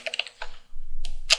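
A few sharp keyboard taps in a short burst, close up, with a soft low rumble underneath.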